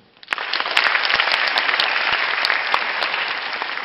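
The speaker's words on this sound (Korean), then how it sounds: "맞으신 분만 박수 좀 쳐주세요" An audience at a student alumni session claps together, a dense, sustained wash of applause rising quickly and holding steady for several seconds with no voices over it.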